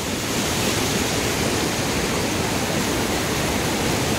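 Barka (Darling) River rushing over Wilcannia Weir, a steady broadband roar of flowing water, close and constant with no voices.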